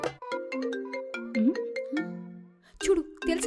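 A melodic phone ringtone chimes in quick stepped notes for an incoming call, clear and close, with brief voices breaking in near the end.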